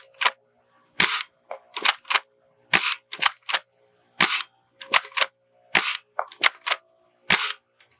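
A Gameface Trion Scar blaster fires a string of sharp, crisp shots down range, a dozen or so snappy pops in irregular pairs and singles, loud and close with silence between.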